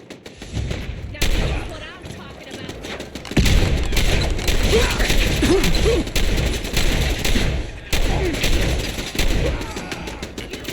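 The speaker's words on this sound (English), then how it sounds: "Are y'all gonna get done shooting each other here soon, or no?" Bursts of gunfire from a Fallout 4 shootout, clusters of close shots and heavier booms recurring in waves over several seconds, with some muffled voices underneath.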